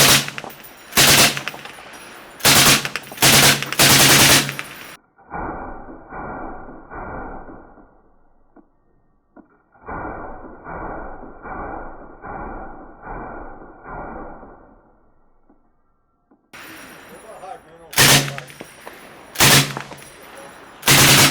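An M60 machine gun fires in loud, close bursts of rapid shots at the start and end, with a quieter stretch of mechanical clattering and rhythmic handling noise between.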